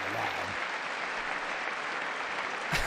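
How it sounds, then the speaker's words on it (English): A State of the Union audience breaks into loud, steady applause that holds for a few seconds as a dense wash of clapping, ending with a brief thump. "they're just going to clap"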